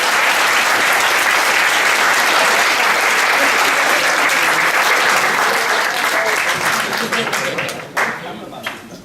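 Wedding guests break into a loud, sustained round of applause during the dinner speeches, a dense close wash of clapping that holds steady for several seconds before thinning out at the end.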